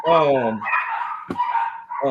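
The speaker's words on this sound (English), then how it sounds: "somebody got some dogs fighting in the background." Dogs bark and yelp in the background, several sharp barks and whining cries in quick succession, close and fairly loud with a snarling, scuffling quality.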